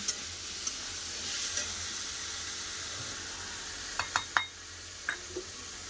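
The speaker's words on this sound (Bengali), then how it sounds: "আলু ঝিঙাটা কষা হচ্ছে" Potato and ridge gourd frying in a pan give a soft continuous sizzle with a few sharp clinks and scrapes of stirring near the end, fairly quiet and close, with no talk.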